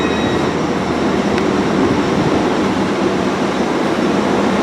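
An Azuma train, unit 801207, sits at a station platform with a steady, loud rumbling hum and a faint high whine, continuous throughout without talk.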